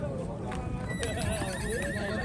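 Horses neighing and whinnying at a busy horse market, with several calls rising over a steady crowd murmur, hoofbeats clip-clopping and people talking in the background.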